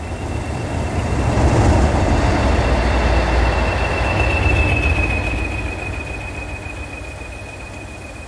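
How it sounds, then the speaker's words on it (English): A rail head treatment train rumbles past at close range, a loud, broad roar that swells and then slowly fades, with a thin sustained wheel squeal running through it and no voices. "the train halts at Minestow to await a signal"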